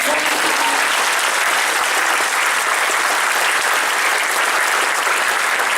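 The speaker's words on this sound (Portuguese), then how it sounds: "Você podia aplaudir." Steady, dense audience applause fills the whole stretch, loud and continuous from a crowd of many hands with no speech over it.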